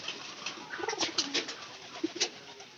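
Pigeon cooing in soft repeated bursts, fairly close, with no talk over it.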